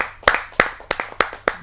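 Audience clapping for a poet at a Hindi poetry gathering, heard as five sharp, evenly spaced bursts of claps, close and fairly loud, with no talk over them.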